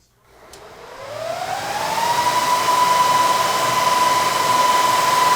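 Dell PowerEdge 2950 server powering on: after a click, its fans spin up into a loud, steady whoosh with a whine rising in pitch over about two seconds, then holding at a constant high roar.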